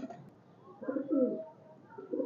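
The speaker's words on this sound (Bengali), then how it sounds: "ভিউয়ার্স কবুতরটা দেখেন" A highflyer pigeon gives a short, low, throaty coo, close by and fairly soft, with a brief murmur of background voice at the start.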